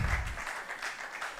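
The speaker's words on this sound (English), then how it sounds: "I think we should give him a big round of applause" A conference audience applauds at a Ghanaian emergency medicine society meeting, a steady wash of hand clapping running the full length without voices on top, moderately loud and roomy.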